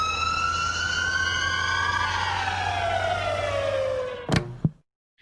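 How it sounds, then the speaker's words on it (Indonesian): An ambulance siren wails loudly in a steady tone that drops in pitch as the vehicle passes, then cuts off abruptly with a couple of sharp clicks before silence. "Ambulan itu kan terus ngasilin gelombang bunyi dari sirenenya ya."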